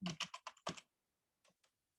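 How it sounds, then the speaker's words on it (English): Quick bursts of typing on a computer keyboard while entering a web search, several close clustered keystrokes followed by a pause and two faint final taps. "I'm just typing in OWL, Purdue University, commas, extended."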